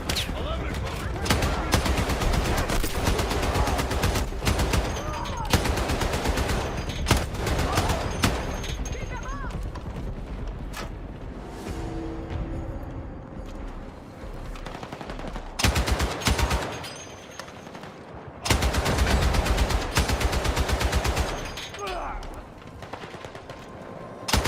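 Rapid machine-gun fire in a video game, with long sustained bursts and short breaks, loud and close, with a voice talking at times between the shots.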